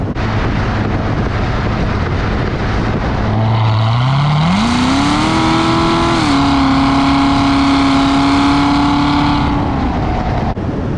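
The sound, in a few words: Corvette engine under throttle with exhaust valves opening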